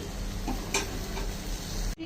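Dried shrimp and chilies fry gently in a pan with a soft, steady sizzle and a couple of faint stirring clicks, close and low in level, with no talking.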